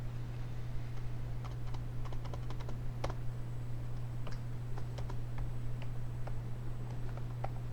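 Code is typed into an Excel VBA procedure on a computer keyboard as a scattered series of light, fairly faint keystrokes over a steady low electrical hum.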